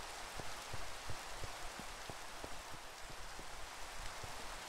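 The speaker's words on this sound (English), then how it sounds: "Nice to see that it's raining in the desert." Rain falling in the Minecraft video game, a steady soft hiss of rainfall over a desert with scattered irregular drop taps, continuous and fairly quiet, no voices.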